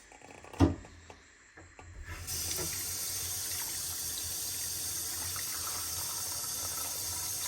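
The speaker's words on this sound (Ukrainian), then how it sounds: "тепер це все ми заливаємо водою холодною і ставимо на плиту" After a few clunks and knocks, a tap turns on and cold water pours steadily into a pot of corn, a continuous rushing splash that holds for several seconds.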